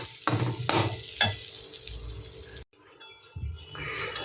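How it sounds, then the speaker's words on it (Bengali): Raw rice grains fry in a pan with a hissing sizzle and a few quick stirring scrapes, then a brief hush before the stirring resumes more quietly. "চালটাকে দেখো আমি কিন্তু সুন্দর করে খুব ভেজে নিয়েছি"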